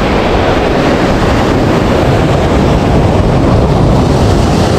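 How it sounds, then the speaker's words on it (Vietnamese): Sea waves crash at the Thuan An estuary in central Vietnam, a steady, loud roar of surf mixed with heavy wind buffeting the microphone, with no voices. "Sóng rì rào ngày đêm,"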